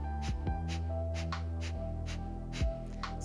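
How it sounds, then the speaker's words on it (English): Kapalabhati skull shining breath in a yoga class: short, forceful exhalations puffed out through the nose, about ten quick bursts in an irregular rhythm, close and clear over a soft steady background hum. "The breath is created by taking short exhalations out through your nose"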